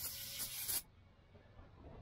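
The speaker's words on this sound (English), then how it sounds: "Just spray it on a rag" Brake cleaner is sprayed from an aerosol can onto a rag in one short, close hissing burst lasting under a second, then cut off into near silence.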